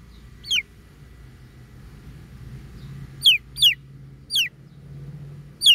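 Baby chickens give a handful of short, high, downward-sliding peeps, spaced irregularly over a soft low background hum.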